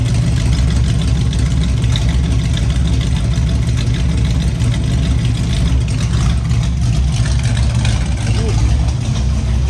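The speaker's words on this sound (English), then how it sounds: "It's idling good." A 1967 Ford Mustang engine idles close by, loud and steady, with a constant low rumble through the whole stretch.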